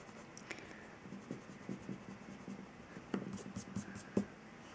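A Kutsuwa Japanese eraser rubbing on paper, heard as faint, close scratchy strokes in a quiet, irregular rhythm with no voice.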